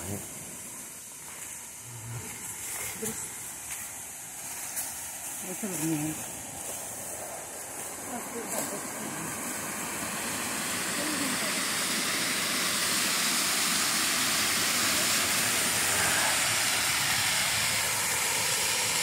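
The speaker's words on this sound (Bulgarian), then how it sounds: "Първия водопад, по-надолу не мога да отида" A forest waterfall builds into a loud, steady rushing roar of falling water, starting softer with footsteps and a voice, then swelling to a dense hiss as it comes near.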